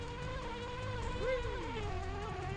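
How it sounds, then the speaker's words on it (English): Bees buzz in a Banjo-Kazooie romhack video game, a steady insect drone with a rising and falling whine, with no talk. "Are those bees protecting something?"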